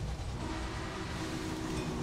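An old train in the railway game Railway Empire rumbles along with a steady low rolling drone and faint clatter, continuous and fairly quiet, with no talk.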